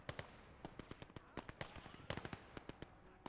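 Gunfire from a Gates of Hell battle, sniper shots among it, crackles as a rapid string of sharp, fairly faint reports, some clustered, some spaced apart.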